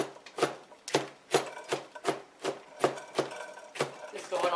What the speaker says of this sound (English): Let's go ahead and work on mincing.